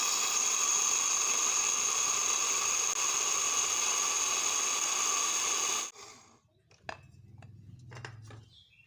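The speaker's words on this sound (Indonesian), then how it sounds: "kemudian daun serainya di blender juga" Electric blender grinding bay leaves and lemongrass for a dry spice paste, a loud steady whine with a sharp tonal hum for about six seconds before cutting off, followed by quieter clatter.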